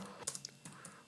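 A handful of quick keystrokes tap on a computer keyboard, close and fairly quiet, in a short irregular burst with no talking.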